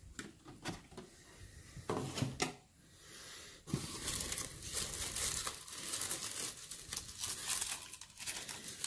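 Close, quiet crinkling and rustling of packaging paper from a 1:18 scale model car box, handled in bursts with soft crumples, scrapes and brief pauses.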